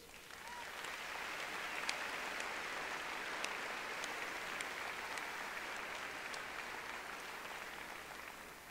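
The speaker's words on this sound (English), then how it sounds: "they deserve one more round of applause." A large crowd at a university commencement ceremony applauds, a broad, somewhat distant hiss of clapping that stays even for several seconds, with a few sharper claps standing out nearby.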